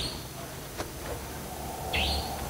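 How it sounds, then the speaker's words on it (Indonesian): A bird calls outdoors with a brief, fairly faint chirp late in the moment, set against steady background hiss and low rumble. "Burungnya."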